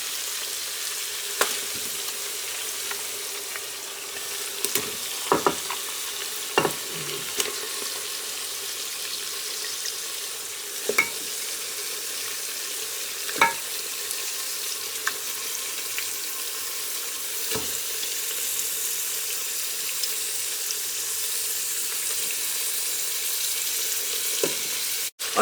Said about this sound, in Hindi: अब इसमें गोश्त डाल देते हैं। गोश्त डाल के हमने भूनना है।